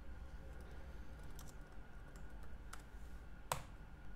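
Quiet, scattered keystrokes and clicks on a computer keyboard as a terminal command is typed on Ubuntu 22.04, with one sharper click near the end against a faint background hum.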